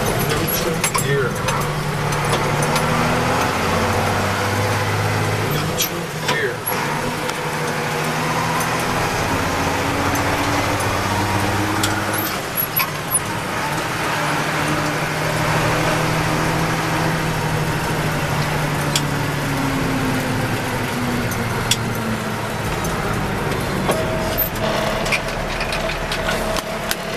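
A truck engine idles and revs through repeated double-clutch gear shifts, with rising and falling engine tones in a steady rhythm, close and continuous across the whole stretch.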